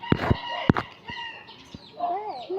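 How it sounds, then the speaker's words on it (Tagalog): Chicken out on a road, clucking in a few sharp nearby calls followed by softer trailing clucks over steady outdoor background noise. "may manok sa kalsada."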